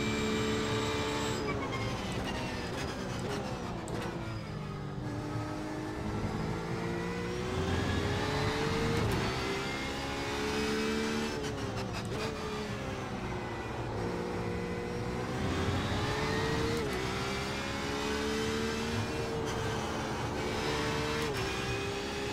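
A race car engine laps Road America in iRacing, loud and continuous for over twenty seconds, revving up through the gears with rising whine, dropping on downshifts and braking, then climbing again under steady throttle.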